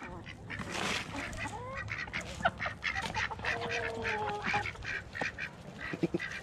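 Ducks and geese quack and honk steadily while being fed, a busy, close flock calling over and over with scattered louder honks.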